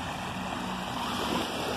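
Atlantic Ocean waves wash at the shore in a continuous broadband rush with slight swells in intensity, fairly loud and close, with no voices.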